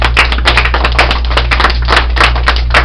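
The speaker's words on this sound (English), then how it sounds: "If you feel blessed, give yourself a round of applause." An audience at an Emancipation address in the St. Helena library bursts into steady applause, a dense, continuous patter of many hands clapping at close range over a low electrical hum.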